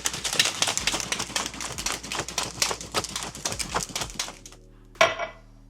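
Drink mixed in a shaker with ice, shaken hard in a fast, continuous rattling clatter for about four seconds, then a single sharp knock and a short ringing stop.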